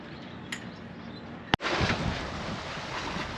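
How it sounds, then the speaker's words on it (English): Strong wind roars and buffets across a sailboat under sail, a loud, steady rushing that surges sharply after a brief pop and stays heavy throughout. "after 3 days of motoring on this trip, we finally got some decent wind. In fact, almost too much wind"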